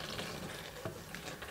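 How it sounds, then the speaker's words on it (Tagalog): Fish fillet gently stirred in a pan with ginger and spring onion: a faint, soft sizzle with light scraping strokes over a short stretch. "alalay lang po tayo sa paghalo kasi madudurog po ang ating isda"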